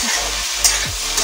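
Pumpkin pieces are stirred into spices already fried in a pan for a fish curry: a steady sizzle with scraping stirs and a couple of sharp clinks, close up.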